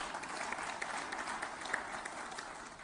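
Audience at the PLASTINDIA 2023 event in Hyderabad claps in a sustained round of applause, dense and even, heard from a distance in a large hall.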